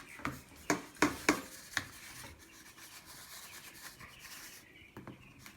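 Dough balls being flattened by hand in a garden kitchen: a few soft slaps and rubbing pats in a quick early burst, then quieter occasional rubbing sounds.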